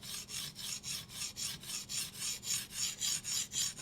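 A steel knife blade is stroked in one direction across a sharpening stone, making soft, regular rasping strokes, about four per second, evenly paced and close.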